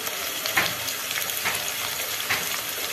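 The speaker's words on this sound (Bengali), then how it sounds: "বিরিয়ানি আলু তো অত হালকা সামান্য পরিমাণে ভেজে নেব" Potatoes fry lightly in hot oil for Kolkata-style chicken biryani, a close, steady sizzle with a few brief sharper crackles and stirring sounds, no voices.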